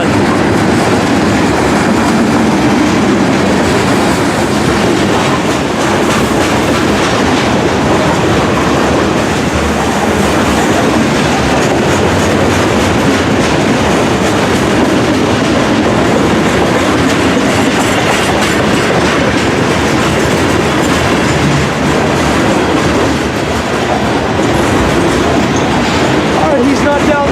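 A CSX freight train led by ES44AH and AC4400 locomotives rolling past close by, a loud continuous rumble with rail clatter and wheel noise sustained throughout, no let-up over the whole stretch.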